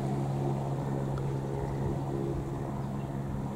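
Airbus H125 helicopter hovering near the end of a runway at Cambridge airport, a steady droning rotor and turbine hum that stays constant throughout at a moderate distance.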